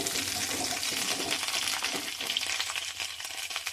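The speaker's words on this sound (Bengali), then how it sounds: "ফুলকপিগুলো লাল লাল করে ভেজে নেব।" Cauliflower pieces fry in hot mustard oil for a Bengali cauliflower potato curry, a dense continuous crackling sizzle close by with faint scraping and no talk.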